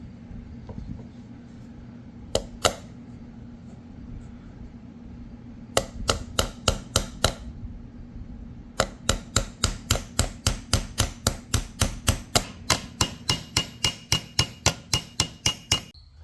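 Sharp hammer blows set rivets on a metal gladiator-style armor pauldron, a few isolated strikes then long steady rhythmic runs of close, ringing metallic taps with a faint hum beneath.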